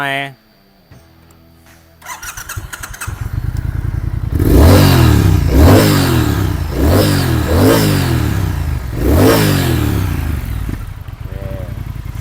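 A 2019 Triumph Thruxton R 1200 with 5,500 km on it idles, then its engine is revved hard four or five times in a steady rhythm, each rise and fall loud and close.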